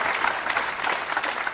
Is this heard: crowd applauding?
yes